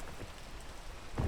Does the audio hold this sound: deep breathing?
no